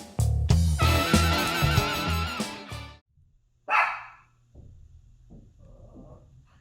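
Two dogs belonging to an upstairs neighbour bark in a loud, rapid burst, then one more sharp bark comes after a pause, followed by a muffled low rumble and faint scuffling.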